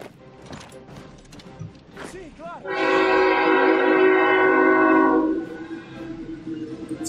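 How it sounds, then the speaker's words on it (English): Loud sustained train horn blast in a Hearts of Iron IV Kaiserreich game session, sounding for about two and a half seconds with people talking before and after it. "It's a goddamn loud train."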